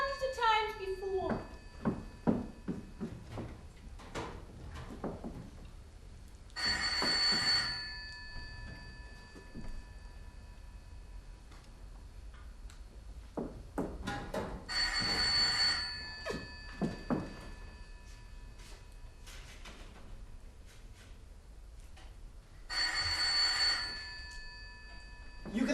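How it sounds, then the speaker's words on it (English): An old-fashioned telephone bell in a downtown New York investigator's office rings in three loud, separate bursts spread across the clip, with a voice and thuds in the gaps between rings. "The phone rang, just like it had done hundreds of times before."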